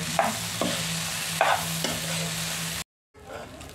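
Cooked rice with curry leaves being stirred in a pan, a soft sizzle under a few scraping strokes of a spoon. A brief silent gap comes near the end, then quieter stirring resumes.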